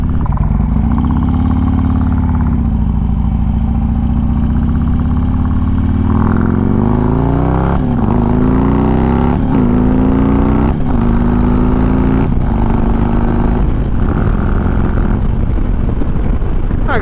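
Harley-Davidson Street Glide Special with a Screamin' Eagle 120R engine and Bassani exhaust, loud and close, the deep rumble rising through several short-shifted gears with brief dips between shifts.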